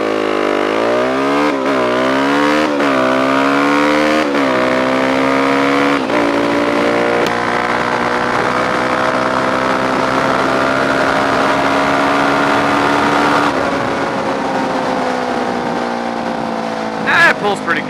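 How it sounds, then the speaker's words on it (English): A motorcycle launches hard from a standstill, its engine howling loudly up through the revs with several quick gear shifts early on, then holding a long, steady high-rpm pull, close and dominant throughout. "So if I could like hard launch this bike"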